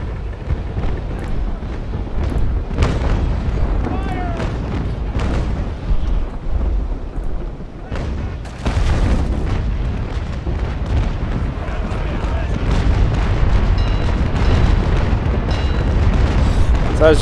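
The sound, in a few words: cannon fire in the video game Naval Action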